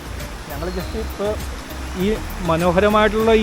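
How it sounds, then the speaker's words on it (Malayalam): River water rushes through forest at Vazhvanthode in Kerala, a steady broadband roar running continuously beneath someone speaking close to the microphone. "അങ്ങ് ദൂരെ നോക്കിക്ക് വെള്ളം ഒലിച്ച് കാട്ടിന്ന് ഇങ്ങനെ വരുന്നത്,"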